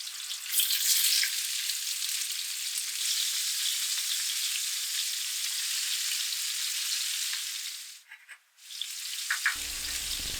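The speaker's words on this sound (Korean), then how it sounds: "준비된 야채를 모두 볶아요." Vegetables stir-fried with garlic in a hot pan sizzle loudly and steadily up close, with a short dip where the food is stirred and a clunk of the utensil near the end.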